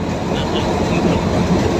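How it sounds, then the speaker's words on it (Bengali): A train departs at Mohakhali with a loud, close, steady rumble of wheels on rail that fills the whole moment without a break. "এই যে এখন ছেড়ে দিবেন ট্রেন,"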